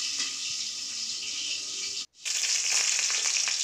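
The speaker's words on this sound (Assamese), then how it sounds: "এয়া মাছ ফ্ৰাই কৰি আছোঁ।" Chanda fish for a curry sizzles steadily in hot oil at close range, a bright crackling hiss that cuts out for a moment and then returns.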